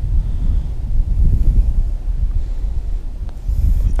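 Wind buffets a camera wrapped in a sock during pan fishing in a heat wave, a loud, low, gusting rumble that swells and dips without pause for four seconds, with no other clear sounds.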